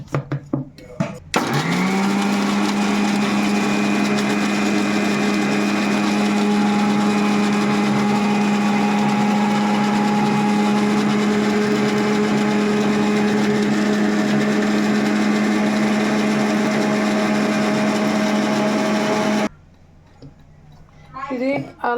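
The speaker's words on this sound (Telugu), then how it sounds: "మిక్సీ పట్టేసుకుందాం" Mixer grinder blitzing cinnamon, cardamom, cloves and star anise with a little water, a loud steady whirring motor lasting about eighteen seconds after a brief start, then cutting off, with faint talk before and after.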